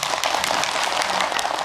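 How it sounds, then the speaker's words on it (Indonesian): A studio audience at an Islamic religious talk show applauds, a brisk, dense burst of many hands clapping at a steady level with no talk over it. "Boleh tepuk tangan dulu yuk."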